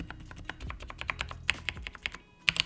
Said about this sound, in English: a gaming keyboard with fantastic stabilizers, pleasant sound dampening